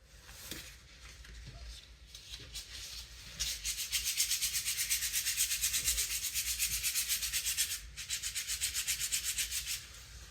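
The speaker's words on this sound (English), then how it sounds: "I've got quite a lot of sanding to do still." Wooden stick slingshot being sanded by hand with 100 grit sandpaper, close scratchy rubbing that starts with a few short strokes, then settles into steady rapid back-and-forth strokes with a brief pause near the end.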